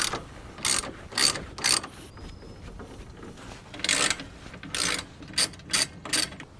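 A hand ratchet unbolts a part under the hood of a 2002 Chevrolet Suburban, giving crisp, close clicking strokes in two quick groups of three or four with a short pause between.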